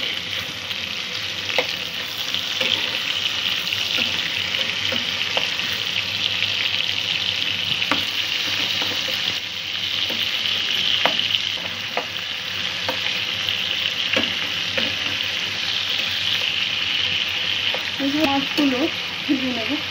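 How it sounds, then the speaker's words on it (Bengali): Hilsa fish pieces fry lightly in oil in a pan, a continuous dense sizzle with occasional faint clinks of stirring, steady and close throughout. "মাছগুলো ভেজে নেব।"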